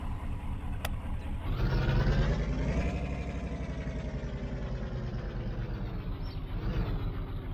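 Truck engine in The Slaverian Trucker game pulling away: a low rumble that rises in revs around the second mark, then settles into a steady, close drone for the rest of the stretch, with no voices over it.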